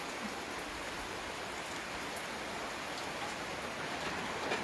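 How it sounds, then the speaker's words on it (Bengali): Steady rain falls outside during the monsoon, a continuous broadband hiss of drops on surfaces that stays even and moderately loud throughout with no talking. "বৃষ্টি হচ্ছে গো, এই দেখো বাইরে বৃষ্টি,"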